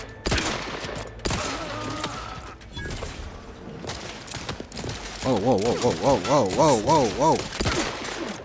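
Gunfire in the video game The Outer Worlds 2: sharp bursts of shots in quick volleys, close and loud, mixed with game effects and a brief spoken exclamation.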